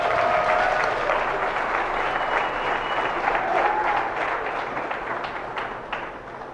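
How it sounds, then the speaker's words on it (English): Sustained audience applause at a 4-H and FFA beef showmanship and steer show, a dense wash of many hands clapping that holds steady and then slowly tapers off, with faint voices underneath. "Let's give this lineup a big round of applause."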